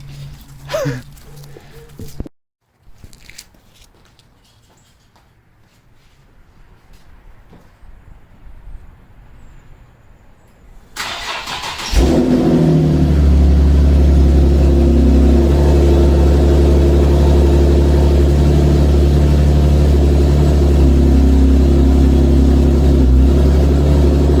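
A Nissan car's cold engine fires up about halfway through after quiet shuffling and faint background noise, then runs loud and steady with a deep droning rumble that fills the rest of the clip.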